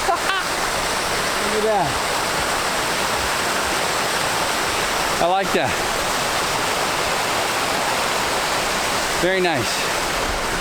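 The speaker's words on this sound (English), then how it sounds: "Finally, a hike, I actually see a waterfall." Waterfall on a hike at Rancho Oso, Santa Barbara, a steady broadband rush of falling water filling the whole clip, with someone speaking briefly several times over it.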